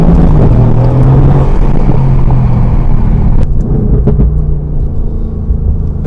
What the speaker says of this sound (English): put the window down a little bit and hear that exhaust